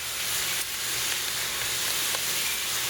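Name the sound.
sausage browning in a pan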